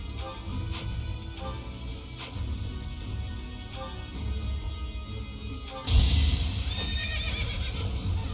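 A horse whinnies in the video game Fire Emblem Three Houses, a bright rising neigh arriving suddenly over a steady game soundscape, with soft clip-clop hoofbeats and background music throughout.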